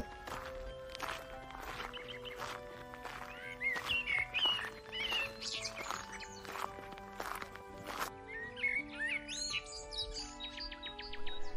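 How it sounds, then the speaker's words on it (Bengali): Birds chirp and tweet over a soft woodland background with light rustling and footsteps, steady and moderately near, no talking. "পাখির ডাক আর পাতার মর্মর শব্দ শোনা যাচ্ছে।"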